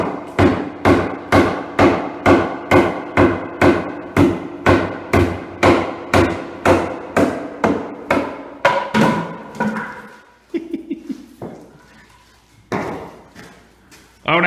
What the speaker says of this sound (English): now he's got a bigger hammer